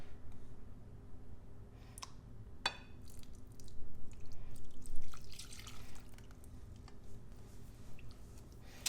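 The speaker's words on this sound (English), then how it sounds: "Whisk this together." Brown sugar and butter are whisked together in a bowl for chewy chocolate chunk cookies, giving soft, faint clicks and scraping taps in an irregular rhythm, close by and alone.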